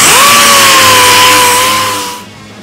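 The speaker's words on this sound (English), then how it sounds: "piece of 80 grit and just give it a final dressing, try to get some of the grinding marks out, turn them into DA marks" A DA sander with 80-grit paper blends welds on a Ford F100 box end, revving as a loud steady whine for about two seconds before quickly winding down.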